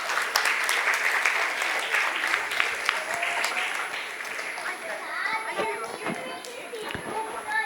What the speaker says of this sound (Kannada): ದೊಡ್ಡದಾದ ಚಪ್ಪಾಳೆ.